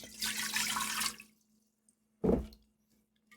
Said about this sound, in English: Now I'll just add a little bit of water.